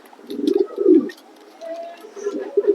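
Racing pigeons offered for sale coo in a few soft, throaty bursts close by, with brief pauses between them and faint chirps around.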